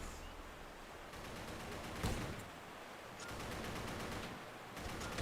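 Dense bursts of rapid gunfire crackle continuously at a distance in the video game Battle for the Pacific, with sustained volleys overlapping into a steady roar of shots.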